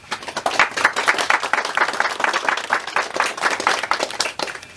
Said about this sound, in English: Please recognize these ladies with your applause.